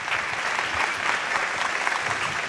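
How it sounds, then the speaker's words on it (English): Steady, even applause from an audience greeting a young magician at a youth magic society show, brief and continuous for a couple of seconds. "Please give him a round of applause."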